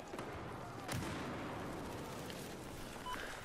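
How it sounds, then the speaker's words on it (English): Gunfire aimed at the player in Battlefield 4 booms over a dense, rumbling battlefield din, with a few sharper shots standing out among continuous distant fire. "somebody's shooting at me"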